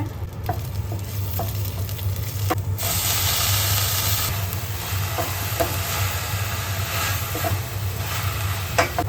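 Broccoli fries in a spoonful of oil with garlic and green chili, a steady loud sizzle and hiss running throughout, broken by scattered clicks and scrapes of stirring.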